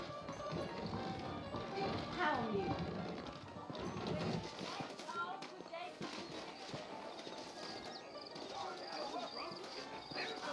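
Horse hooves clip-clop in a steady trot beneath voices talking in the video game Red Dead Redemption, set against busy background ambience with occasional taps and rustles.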